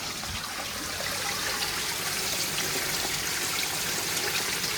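Water trickles and splashes steadily from a DIY koi pond sieve filter shower, a continuous broadband hiss close to the listener that holds even with no pauses.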